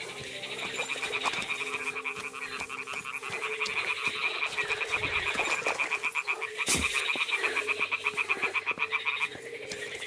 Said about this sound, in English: The toads are croaking here.